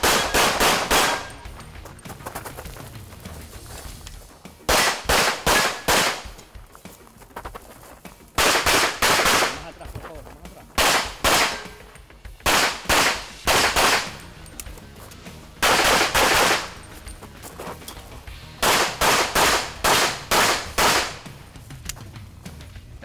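Pistol gunfire on a practical shooting match stage, sharp loud shots in rapid strings of three to six, repeated in clusters with short pauses for target transitions, close and without talk.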